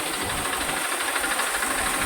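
A tractor engine runs steadily and close by while pesticide is sprayed through a hose, a continuous mechanical rumble with a hissing edge and no voices.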